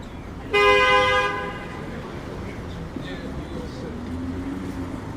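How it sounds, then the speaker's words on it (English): An SUV's horn gives one loud sustained honk at a Porsche, then downtown Toronto street traffic keeps rumbling in the background on a windy, cold day. "That SUV just honked at that Porsche."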